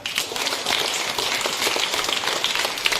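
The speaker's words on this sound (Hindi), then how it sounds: "वेरी गुड, तालियां।" Students clap steadily together at a school morning assembly, a dense, even patter of applause with no talking.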